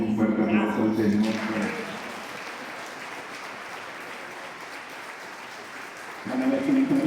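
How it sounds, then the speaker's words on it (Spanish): A church congregation breaks into loud, sustained clapping during a Spanish-language worship service, a dense wash of applause that swells and holds for several seconds while a voice speaks over the start and end. "le demos un fuerte aplauso al Señor"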